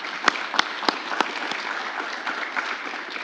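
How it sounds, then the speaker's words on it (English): Scattered, thin clapping rings out at a graduation ceremony for a digital transformation certificate program, a few distinct claps standing out over a light, fairly quiet patter of applause. "one last round of applause for the overall committee and everybody that was involved with this"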